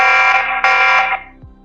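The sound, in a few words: security camera alarm sounding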